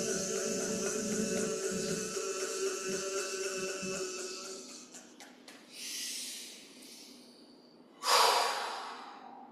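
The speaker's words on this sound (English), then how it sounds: "Again, inhale." Slow, deep breaths during a sound therapy breathing exercise: a long drawn airy exhale against a steady tonal drone, then two strong hissing inhalations, close and clear.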